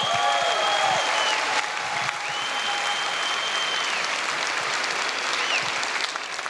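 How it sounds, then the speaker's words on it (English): A crowd of students, families, staff and friends applauds at a university lū‘au and hō‘ike show, giving dense steady clapping throughout with a few whoops and cheers rising above it. "give yourselves, students, family, staff, and friends a round of applause"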